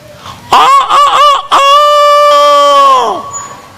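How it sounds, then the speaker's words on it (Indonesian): A rooster crows loud and close in a single long call, opening with a few rough broken notes before a sustained harmonic cry that bends downward and fades out. "tidak mungkin ayam kongkorongok kecuali dengan izin Allah"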